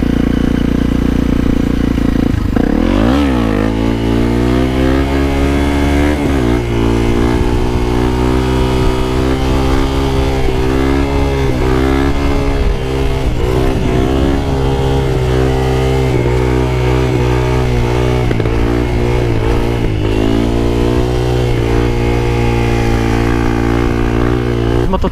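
A low-powered motorcycle's engine while being ridden, close and loud, with a steady drone that rises and falls in pitch through gear changes and revving over about twenty-five seconds.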